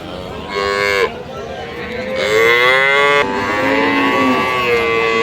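A Friesian dairy cow at Ambari cattle market lows loudly and close by, giving two or three long drawn moos one after another against the busy market.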